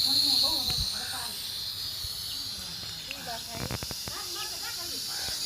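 Gas hisses out of a frosted, iced-over gas cylinder after a blast, giving a continuous steady hiss at moderate level with people talking intermittently over it.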